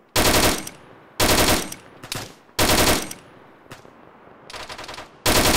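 Automatic gunfire in the military game Arma 3 comes in loud, separate bursts of rapid shots with short silent gaps between them, plus a few quieter single shots and one fainter distant burst.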